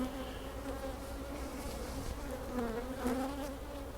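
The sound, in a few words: honey bees at a hive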